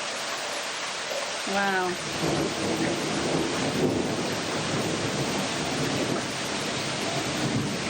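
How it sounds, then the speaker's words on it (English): Heavy thunderstorm with steady, loud rain pouring down in Colombia during the rainy season, a continuous roar of rainfall with rumbling thunder, and a person briefly exclaiming early on. "now that we've got a storm"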